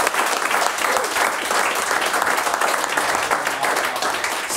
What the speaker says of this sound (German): noch einen fetten Applaus dafür